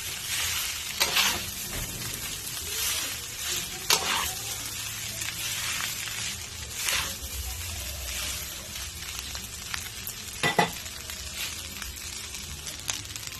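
Sinangag, Filipino garlic fried rice, sizzles steadily in a pan while being stirred, with repeated scraping strokes and soft clatters breaking through the constant frying hiss.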